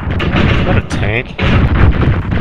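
Heavy tank cannon fire in a combat video game, deep booming blasts landing close and loud, layered over dense rumbling battle noise with a short sharp whistling burst in the middle.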